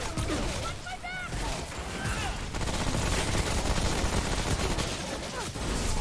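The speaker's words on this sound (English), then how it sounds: "I do really like the submachine gun." Submachine gun fire in the video game Remnant: From the Ashes, bursts of rapid shots mixed with game effects and music, with a person talking over the action.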